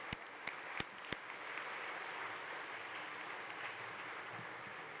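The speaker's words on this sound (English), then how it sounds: "how about a round of applause?" Crowd applause at a 2013 Winchester High School graduation ceremony: a steady, fairly quiet wash of clapping that fills the room, with a few sharper claps standing out near the start.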